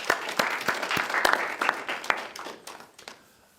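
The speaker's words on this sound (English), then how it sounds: "Let's give her some applause." Brief, fairly faint applause from a small seminar audience after a volunteer's demonstration, uneven claps that fade away within a few seconds.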